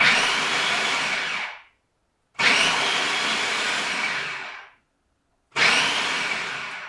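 A food processor pulses spinach and artichokes in three loud bursts of roughly two seconds each, with short silent gaps between them and no talking.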